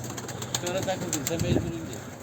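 Pigeons released from a rooftop coop flap their wings in short bursts overhead, mixed with soft cooing and outdoor wind, while a voice murmurs in the background.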